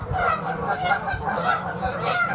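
Geese at a pond honk loudly and repeatedly in a noisy, overlapping chorus, close by and continuous.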